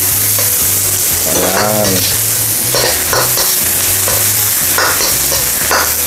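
Garlic sizzles loudly in a hot pan with onion while a utensil scrapes and stirs in a steady rhythm, close by, with a brief word spoken over it.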